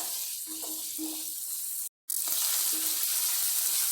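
Chicken pepper fry with chicken and black pepper masala sizzles steadily in a pan, a close, continuous crackling hiss broken by a brief moment of silence, with faint clinks of stirring.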